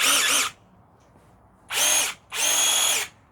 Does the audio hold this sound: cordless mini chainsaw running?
yes